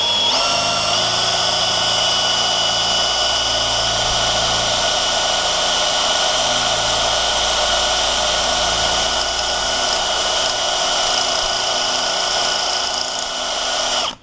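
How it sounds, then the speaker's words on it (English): A drill bit boring into a chunk of steel, a loud steady motor whine with grinding harmonics running continuously for about fourteen seconds before stopping abruptly at the end. "Drills just fine all day long."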